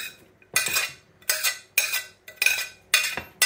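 Onion, green chili and other ingredients stirred together in a pan, giving five sharp scraping, clinking strokes in a steady rhythm, close and fairly loud, with no talking.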